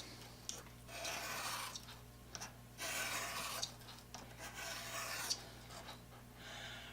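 A rebate plane iron is sharpened along its bevel with steady back-and-forth rasping strokes of steel on a stone, quiet and close, in several bursts separated by short pauses.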